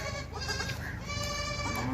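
Goats on a goat farm in Pakistan bleat repeatedly in overlapping calls, loud and close, against a steady background of farm noise throughout.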